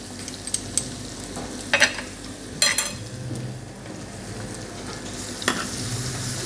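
Chopped onion and garlic sautéing in a tablespoon of butter in a pan, a steady close sizzle broken by a few sharp clinks and scrapes of stirring.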